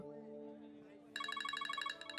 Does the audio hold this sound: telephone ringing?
yes